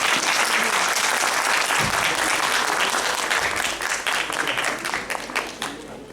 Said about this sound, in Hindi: और एक बार ताली बजा दीजिए बच्चे।